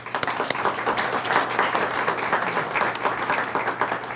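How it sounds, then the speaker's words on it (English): A round of applause from the audience at a student-of-the-month awards event, lively and close with individual sharp claps standing out against a steady clapping crowd, plus a faint low hum underneath. "let's thank the business community with another round of applause."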